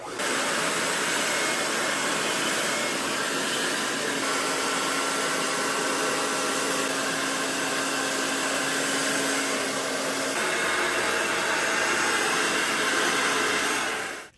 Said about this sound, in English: And my hairdryer is the most powerful thing in here.